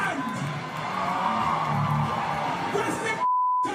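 Large crowd in Amsterdam cheering and shouting together, a dense sustained roar of many voices close by, cut off abruptly near the end by a steady electronic beep tone.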